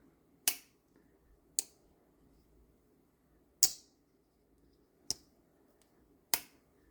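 Jack Wolf Knives Gateway Barlow pocketknife with a half stop being opened and closed, five crisp separate snapping clicks spaced unevenly, close and clear in an otherwise quiet room.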